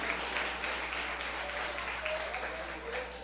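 Steady applause from a church congregation fills the whole stretch, a dense wash of clapping with a faint hum underneath.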